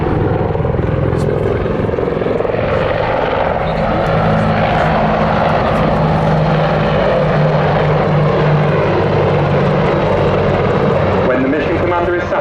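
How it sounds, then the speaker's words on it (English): Army Air Corps attack helicopter flying a display at the Duxford Summer Air Show, a loud continuous rotor and engine roar filling the clip, with a commentator talking over it. "The pilots throw the aircraft into a rapid return-to-target maneuver"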